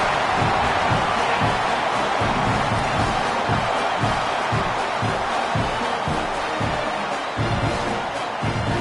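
Stadium crowd at a Texas A&M versus Auburn football game roaring steadily after a Texas A&M touchdown, a dense, loud, continuous wash of cheering with rhythmic pulses that hold for the whole stretch.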